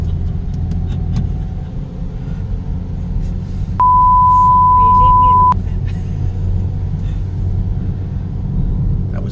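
A car engine strains up a steep hill with a steady low rumble throughout, as a person talks over it and a long flat electronic beep cuts in midway.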